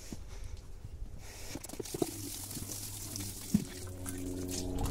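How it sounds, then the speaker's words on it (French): Water poured over seedlings in a greenhouse, a soft steady splashing and trickle with a couple of small knocks, close and fairly quiet. "Hop, on va arroser un petit peu."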